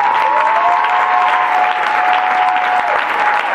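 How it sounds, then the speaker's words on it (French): A church congregation applauds loudly and steadily throughout, with a sustained tone running underneath the clapping. "Est-ce qu'on peut acclamer le Saint-Esprit?"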